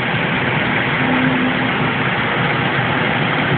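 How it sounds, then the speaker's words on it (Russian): Car engines rumble low and steady as vehicles creep slowly through a flooded street in Blagoveshchensk after a downpour, a continuous muffled drone with no voices. "Машины аккуратно крадутся."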